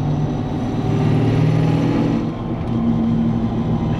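A Land Rover Defender with a supercharged LSA V8 and quad exhaust rumbles loud and close, a deep steady idle with slight swells in revs and no break.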